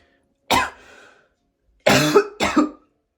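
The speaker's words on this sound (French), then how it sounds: "j'ai encore ces toux que j'ai depuis bientôt 3 mois" A man with a cough that has lingered for almost three months coughs while smoking a cigar: one sharp cough followed by a rasping tail, a pause, then two more close, harsh coughs, near and alone.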